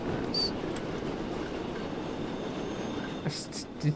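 Steady rumble of a passenger train running in the Transport Fever 2 game, a continuous low rolling noise with faint higher rail squeals near the end, moderately loud and without talk.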